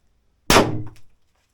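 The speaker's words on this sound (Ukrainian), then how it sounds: "Перший магазин, 5 патронів. Зарядили і 5 пострілів." A single sharp report from a 9mm P.A.K. starting pistol, a loud close bang with a short metallic ring and brief decay, alone in an otherwise quiet setting.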